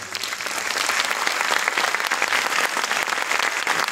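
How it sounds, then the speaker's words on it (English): Audience at a book premiere for the Spanish edition of The Dogs in My Life gives steady, loud, sustained applause, a dense clapping roar with no pause. "let's give another a resounding applause"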